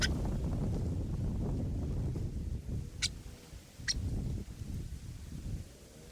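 Strong wind at a campsite buffets the microphone in rumbling low gusts, with a few sharp high squeaks cutting through midway.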